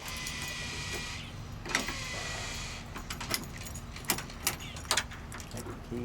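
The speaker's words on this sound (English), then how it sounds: "take the key out, it lays there and shuts right with the gate" A key jingles and is pulled from a TailGator tailgate lock on a Toyota Tacoma, with metallic clinks and a few sharp clicks near the end, close by.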